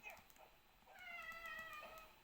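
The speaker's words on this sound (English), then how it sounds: "my cat has decided he wants all the attention" An indoor house cat meows several times in short, close calls, with a longer drawn-out meow in the middle, fairly quiet against a hushed room.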